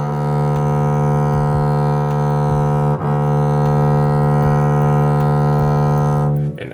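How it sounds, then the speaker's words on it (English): A bowed double bass sustains a long, steady, loud tone on open strings, with rich low harmonics and a brief bow change near the middle before the note cuts off. "So this could be open strings, just holding long tones."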